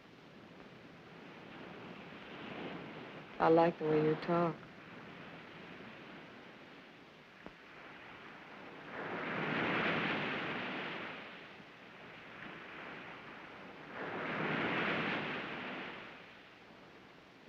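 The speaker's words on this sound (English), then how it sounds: "You like the sound of the ocean?" Distant ocean surf in a 1945 film noir scene: a faint, low wash with two slow swells rising and falling several seconds apart, after a brief line of dialogue near the start.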